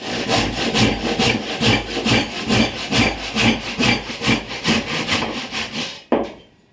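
Hand saw cutting through wood for a mortise and tenon joint, steady rhythmic back-and-forth strokes close up and loud, ending abruptly with a brief knock.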